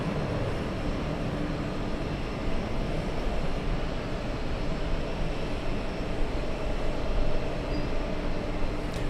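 Delta Airlines 767 airliner taking off at JFK: a steady, loud broadband jet roar holds for the whole stretch and swells slightly toward the end, with no talk over it.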